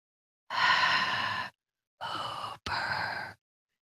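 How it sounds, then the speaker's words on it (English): Loud, close breathing comes through an unmuted microphone during a podcast call: one long exhale, then two shorter breaths separated by a brief click, with silence between them and no talk. "I can hear you. All kinds of breathing."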